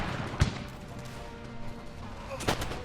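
Two sharp pistol shots about two seconds apart ring out over the busy ambience of a line battle in Empire 2 Total War, with pirates fighting European forces, and other gunfire thins out in the background.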